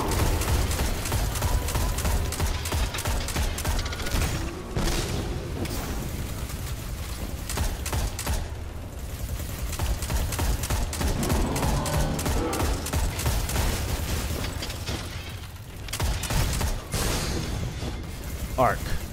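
Kinetic weapon gunfire in Destiny 2 during a Nightfall strike, dense and loud, bursting throughout amid constant game effects and a talking voice.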